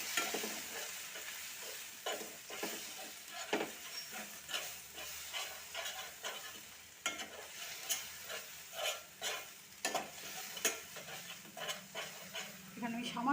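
Cumin, turmeric, red chili and a little sugar fry in a pan for a mango paneer dish, giving a soft steady sizzle with repeated scraping stirs, fairly quiet, while someone talks.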